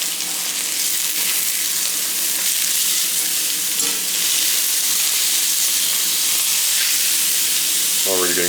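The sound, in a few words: steaks searing in a newly seasoned cast iron skillet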